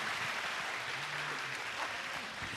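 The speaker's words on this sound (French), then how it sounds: "On peut l'applaudir" A television studio audience applauds a guest on a Friday-night show, a faint, even rustle of many hands clapping that holds steady throughout with no clear voices over it.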